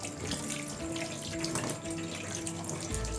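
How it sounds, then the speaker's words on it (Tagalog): Tap water runs steadily over raw chicken being washed in a kitchen sink, a continuous close splashing and gurgling stream with shifting tones as the pieces are handled. "hugasan ko muna po itong chicken"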